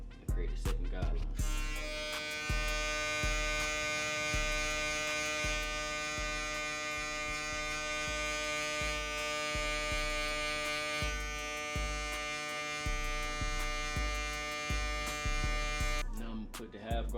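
Electric hair clippers fitted with a 1 guard buzz steadily and close to the ear through a self haircut at home, with a brief start and stop at each end.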